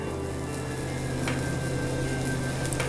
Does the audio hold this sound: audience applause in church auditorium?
no